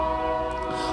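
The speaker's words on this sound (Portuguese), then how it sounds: "O trem que apita bastante alto, tem uma buzina bastante alta." A passing train sounds a loud, sustained horn with steady tonal layers that hold for the whole short stretch, close and dominant, with rail rumble beneath.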